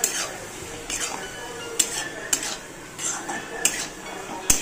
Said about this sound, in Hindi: ये देखिए, अभी हम इसे एक बार चला लेंगे।